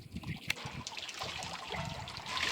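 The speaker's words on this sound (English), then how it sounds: "As it goes around, it's pumping the water up." Water wheel on a South Carolina homestead lifting well water, a steady close trickle and splash of running water with a brief knock near the start and no voices.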